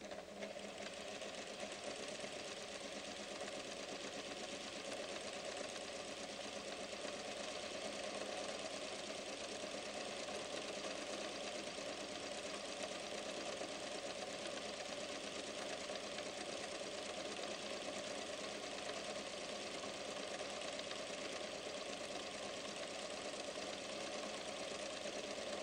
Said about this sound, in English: I'm going to start on the left side and sew gentle curves up and down as I move towards the right side